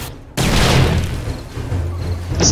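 A sudden loud boom after a brief quiet moment, followed by a rumbling low tail, a grenade blast in the video game 7 Days to Die.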